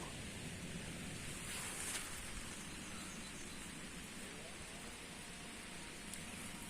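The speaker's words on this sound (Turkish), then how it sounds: "Havada bir taraftan yağıyor" Very faint, steady rain patters softly in the background while mushroom hunting, a low continuous hiss with no voices.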